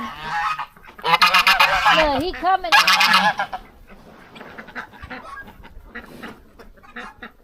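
Geese honk loudly and repeatedly around a chicken coop, with clucking fowl mixed in, the burst strongest early on before fading to scattered calls; a person speaks briefly.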